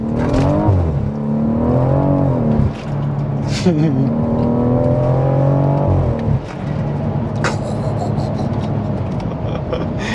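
A 730 bhp BMW M140i engine revs hard and climbs through the gears, its tone rising and dropping with each shift, loud and close.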